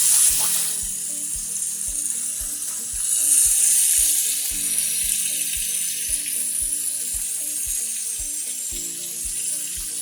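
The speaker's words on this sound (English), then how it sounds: "now we're going to cook our meat. First, the steak." Steak sizzles on a home hibachi griddle with a constant bright hiss, while a faint, regular low ticking runs beneath it; no one speaks.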